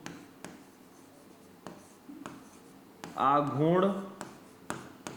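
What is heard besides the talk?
writing on a board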